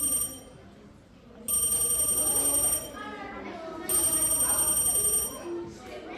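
A telephone rings in two long, bright bursts separated by a pause, loud and close over a busy background of voices and music.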